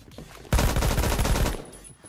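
Loud burst of rapid automatic gunfire from the Roblox shooter game Phantom Forces, a sustained fusillade of close, evenly spaced shots lasting about a second before cutting off into quiet.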